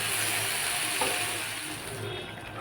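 Shak chorchori, a dish of leafy greens, sizzles steadily in a pan, a constant close hiss of frying that softens slightly toward the end.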